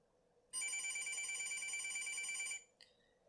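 A telephone rings in one continuous bright trill lasting about two seconds, loud and close, indoors, followed by a brief faint blip.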